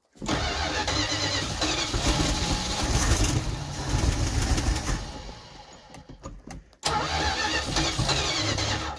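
A 1978 Dodge Adventurer pickup engine cranks and catches, a loud close churning roar that runs for several seconds, dips and cuts out briefly, then surges back strongly at the end.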